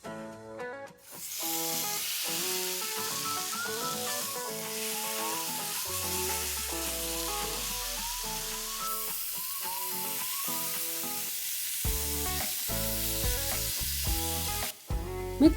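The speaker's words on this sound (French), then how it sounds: "On va cuire le bulgogi directement sur la table comme au restaurant." Beef bulgogi for Korean beef barbecue sizzles on a tabletop grill, a continuous hissing fry heard under prominent background music.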